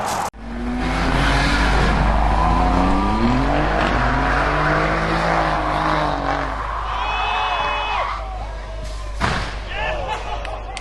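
A red Alfa Romeo Quadrifoglio slams into a wall at a cars and coffee meet, the impact followed by a loud sustained engine roar, tire squeal and crowd voices shouting nearby.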